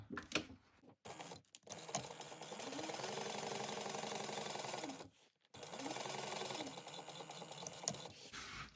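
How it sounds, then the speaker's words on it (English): A sewing machine stitches the seam of a crossbody bag in two steady runs, its motor whirring and stepping up in speed before pausing briefly and starting again. The sound is close and fairly quiet, with short handling noises between the runs. "you're going to sew this at a 1/2 inch seam allowance"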